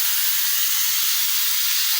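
Pressure cooker with mutton soup spilling out, venting a steady, loud, continuous hiss of steam close by with no voices.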